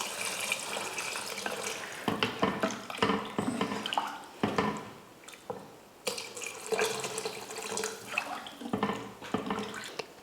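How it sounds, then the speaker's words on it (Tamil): Water runs and splashes into a pot of tamarind kuzhambu with eggplant, an uneven stream of trickles and drips with brief pauses, close to the listener. "இப்போ கொஞ்சம் தண்ணி சேர்த்துடலாம் குழம்புக்கு."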